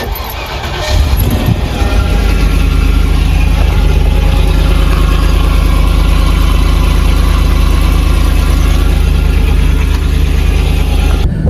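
A Land Rover Discovery 2 V8 cold-starts with its rear exhaust box removed: a quick crank and catch, then a loud, deep, steady rumbling idle that stays close and unbroken with no talking.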